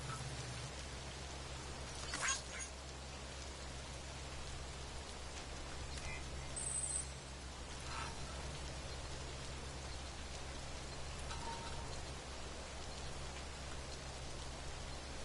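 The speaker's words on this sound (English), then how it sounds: "When it's still fucking pouring down time distortion rain" Heavy time distortion rain pours down in a video game as a steady, soft hiss, with a few brief clicks and taps over the constant downpour.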